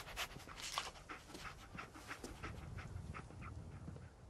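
Dogmeat, the German Shepherd companion in Fallout 4, pants steadily and close by in quick rhythmic breaths, with a few faint whimpers mixed in.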